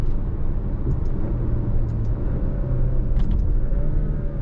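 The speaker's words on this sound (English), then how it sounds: "I like the way it downshifts." Steady low rumble of a 2022 Alfa Romeo Stelvio SUV engine heard from inside the cabin, the engine note shifting as gears change down.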